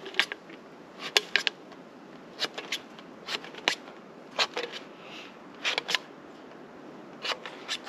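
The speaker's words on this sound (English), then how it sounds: "The first thing I do is I very carefully cut the top off the can." An aluminum can having its top cut off, heard as a run of sharp, close clicks and crunching snips in irregular bursts, alone against a quiet background.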